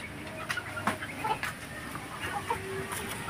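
Native crossbreed chickens feeding outdoors, clucking in short, scattered calls at moderate distance over a steady background hum, with several brief sharper peeps.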